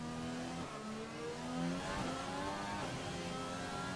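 A race car engine in a racing video game, revving hard with rising and falling pitch as it shifts through a chicane, steady and fairly near with no talk over it.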